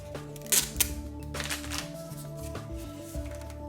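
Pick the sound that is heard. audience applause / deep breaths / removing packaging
removing packaging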